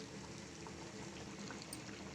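Basmati rice simmers in a pot of salted water with a steady, faint bubbling burble, continuous and unbroken with no voices.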